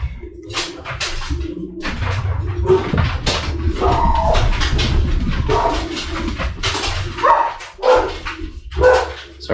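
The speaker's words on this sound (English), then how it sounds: "sorry about the dogs barking" Several dogs bark in bursts close by, irregular yaps and woofs overlapping, with a cooing pigeon and other birds audible between them; no one speaks.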